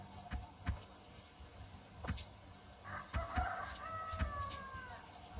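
A chicken character in the music game Incredibox clucks and crows in short, repeated bursts, loud and close over a rhythmic backing beat.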